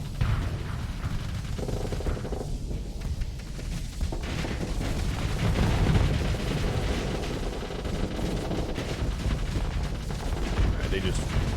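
Thumper weapons firing in the Starsector space combat game, a dense, continuous barrage of booming gunfire and low rumbling blasts layered over game ambience, with no voices.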